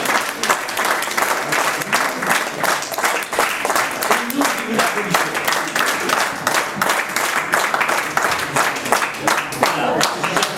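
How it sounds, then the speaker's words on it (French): Spectators applaud warmly and steadily for the whole stretch. The dense, even clapping comes from a sizable crowd, and faint voices murmur underneath. "merci de vos chaleureux applaudissements"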